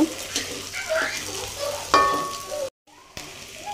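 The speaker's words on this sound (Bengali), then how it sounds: "এর মধ্যে আমি মাংসগুলো দিয়ে দিব এবং এটা ভালোভাবে আরেকটু 2 মিনিট ভেজে নেব" Chicken pieces fry and get stirred in a pan, giving a moderate sizzle with utensil scrapes and a metallic clink, then a brief silent gap before the sizzle returns.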